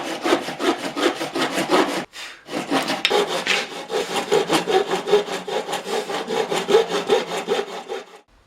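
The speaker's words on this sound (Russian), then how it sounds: "выпилить днище, используя ручную лучковую пилу" A hand bow saw cuts through a wooden oak barrel head. Loud, steady back-and-forth rasping strokes come close up, with one brief pause before the rhythmic sawing resumes.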